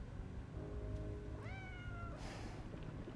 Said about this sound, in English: Now the cat is walking next to Lou.